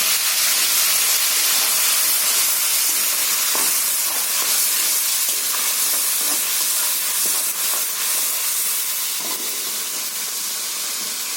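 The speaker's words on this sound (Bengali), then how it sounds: "তো এটা আমি তেলের মধ্যে দিয়ে দিচ্ছি কড়াইতে।" Ground ginger, garlic, tomato, cumin and coriander paste dropped into hot oil in a kadai for a meat curry, a loud continuous steamy hiss and sizzle with faint crackles, heard close up with no talking.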